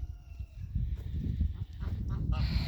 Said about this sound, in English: Now I have fewer geese.